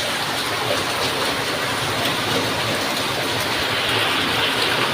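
Rain falls as a steady broadband hiss, easing but still continuous, with no voices over it.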